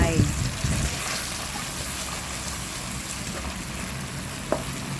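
Tofu sizzles in a pan with soy sauce, oyster sauce and sliced chilli, a close continuous frying hiss with a stronger crackle at the start and a small clink near the end, someone talking over it.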